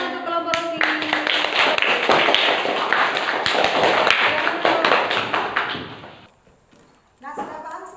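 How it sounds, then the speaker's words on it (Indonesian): A classroom group claps for a student team after a math lesson, a dense burst of many hands lasting about six seconds, fairly loud, then fading to near silence before voices resume. "Tepuk tangan untuk kelompok Rosi."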